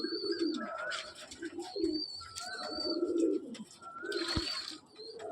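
Old-lineage breeding pigeons coo in soft repeated phrases, heard mid-distance among other bird calls and chirps, with no talk.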